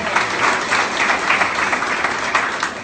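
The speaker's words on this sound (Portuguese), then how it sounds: "Pode aplaudir com alegria!" A church congregation claps and applauds steadily throughout at a lively service, a dense, even wash of hand claps with no voices standing out.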